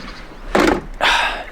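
A door thuds twice in quick succession, loud and close, as it is opened to head back downstairs in a house where the German national football team stays during Euro 2024.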